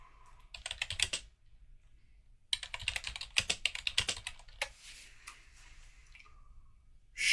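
Someone types on a computer keyboard in bursts of quick, close clicking keystrokes separated by short pauses, with no talking.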